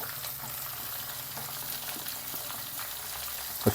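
Cumin, mustard seeds and curry leaves crackle in hot oil, a dense steady sizzle with fine popping throughout and a sharper pop near the end, close and continuous without talk.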